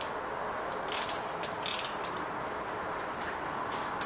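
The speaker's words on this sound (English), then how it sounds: "the first thing is to undo the pinch bolt at the top of the yoke" A ratchet loosening the pinch bolt on the top yoke of a motorcycle fork during a fork change on an NTV 650 scrambler build, with steady fine mechanical clicking running throughout at close range and no talk.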